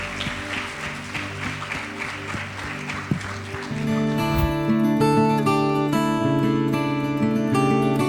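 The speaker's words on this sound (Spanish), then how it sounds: "Bríndale un fuerte aplauso a Dios." A church congregation claps steadily for a few seconds, then the clapping fades under swelling sustained worship music that fills the rest of the moment.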